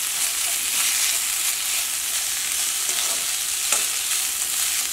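Carrot and cabbage fry in a pan with a steady, close sizzle and occasional stirring scrapes, continuous and unbroken with no talking.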